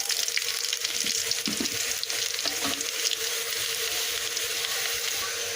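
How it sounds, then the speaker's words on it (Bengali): Chopped onions sizzle in a hot pan on a home stove, a steady, close crackle of frying oil with a few soft scrapes from a spatula. "আর এদিকে আমি পেঁয়াজ ভেজে নিচ্ছি"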